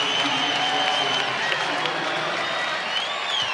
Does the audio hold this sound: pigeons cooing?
no